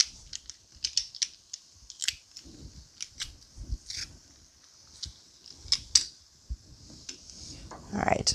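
Unpeeled garlic cloves crushed in a Pampered Chef garlic press while cooking black bean sweet potato chili, giving a series of sharp, close clicks and squeezes at an uneven pace, with faint low kitchen noise and a louder crunch at the end.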